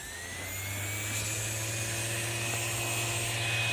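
A Bosch random orbital sander whirs steadily at close range, a high electric whine over a low motor hum, slowly growing slightly louder.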